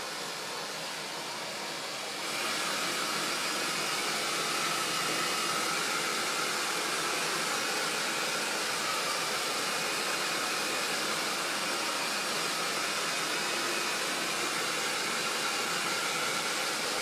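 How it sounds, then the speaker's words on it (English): A hair dryer drying paste on a staging prop switches on after a couple of seconds and blows with a loud, steady rushing whir that continues unbroken to the end. "I'm just going to get to my hairdryer again."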